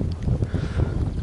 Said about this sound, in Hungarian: Most már kellemesen fúj a szél is